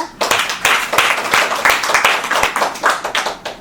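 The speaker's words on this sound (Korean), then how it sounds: "박수 한번 칠까요?" Audience at a Buddhist evening dharma service clapping in a quick, loose rhythm, close and fairly loud, with individual claps standing out from the group for a few seconds.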